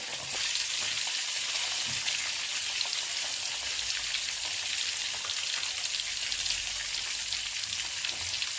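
Chicken wings frying in hot oil, a steady dense sizzle and crackle that holds unbroken throughout, close and even in loudness, with no voices over it.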